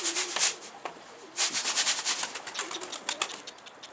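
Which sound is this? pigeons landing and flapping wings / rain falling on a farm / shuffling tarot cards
pigeons landing and flapping wings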